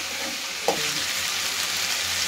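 Masala spices sauté in a hot pan with a loud, even hiss throughout and a single clunk of a spoon or spatula early on; no speech.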